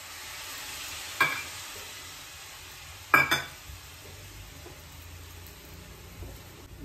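Vegetables with tomatoes cook in a covered pan over a low gas flame, giving a soft steady sizzle with a couple of brief clinks or stirring knocks.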